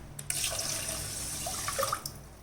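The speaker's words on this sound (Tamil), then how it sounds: "அதே கிளாஸால் 2 கிளாஸ் தண்ணி வச்சுக்கிறேன். கிளாஸ் தண்ணி சேர்த்துக்கிறேன்" Water from a glass splashes onto soaked rice in a cooking pot, a close, steady pour of liquid lasting about two seconds, with no talk.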